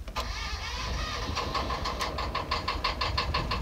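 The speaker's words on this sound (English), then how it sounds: "We have a working engine, which I'm very, very happy about, and it's sounding good." An engine cranks and catches, then settles into a loud, close, rough idle with a rapid pulsing knock.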